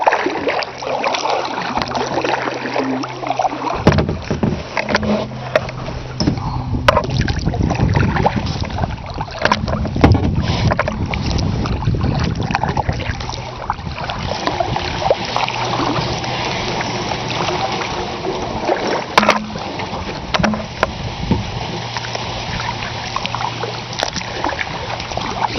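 A kayak glides through lily pads on a lake, with a continuous rushing wash of water and paddle strokes under steady wind noise buffeting the microphone.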